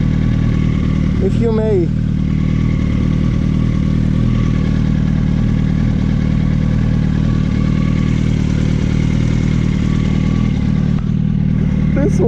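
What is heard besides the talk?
motorcycle engine during ride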